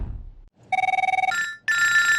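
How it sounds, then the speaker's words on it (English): Telephone ringing alone, a rapid trilling bell burst followed by a brighter, sustained ring tone, close and clear after a moment of quiet. "Phone rings and you're like, oh man, who is it?"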